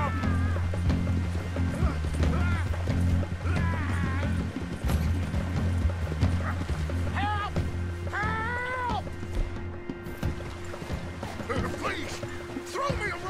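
Horse galloping in Red Dead Redemption 2, rhythmic hoof beats running under game noise, splashing water and background sounds, with occasional whinny-like cries over a continuous low rumble.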